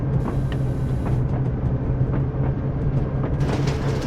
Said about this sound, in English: Oh, that train is moving.